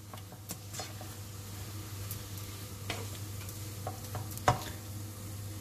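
Chopped leeks cooking in a pan for stuffed potatoes, a steady soft sizzle with occasional stirring scrapes and a brief utensil clink near the end, no talking.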